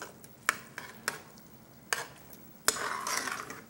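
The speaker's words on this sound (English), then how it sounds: "and stir it in there good." A spoon stirs jambalaya in a pot, giving a few sharp scrapes and clinks against the metal followed by a soft, steady sizzle that swells toward the end, close and moderately quiet with no talking.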